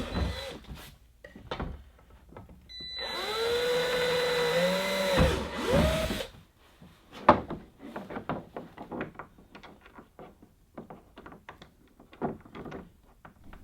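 A power drill whirs for a few seconds boring pilot holes, pitch dipping as it bites, then stops; knocks and handling clatter follow.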